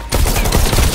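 Continuous loud burst of automatic gunfire in the VR game Bullet Train during a subway shootout, starting abruptly and hammering steadily for about a second.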